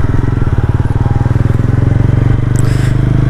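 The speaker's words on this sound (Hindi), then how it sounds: "इसका एग्जॉस्ट नोट भी बहुत अच्छा है।" TVS Ronin 225 motorcycle idles with a deep, rapid exhaust thump, steady and loud at close range throughout.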